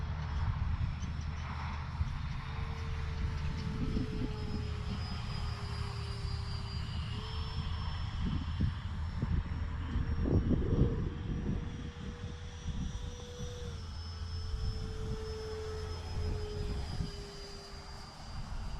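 An E-Flite FJ-2 Fury RC jet plane flies overhead, its electric ducted-fan whine rising and falling steadily as it passes at moderate distance, alone without talk.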